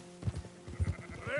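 Several short sheep bleats in quick succession from the video game Red Dead Redemption 2, close and fairly loud, followed by a rising synthetic tone at the end.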